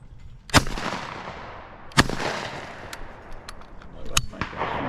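Shotgun blasts at clay targets in an outdoor shooting meet, two sharp loud reports followed by several fainter, more distant shots from other shooters, each trailing off in a short echo.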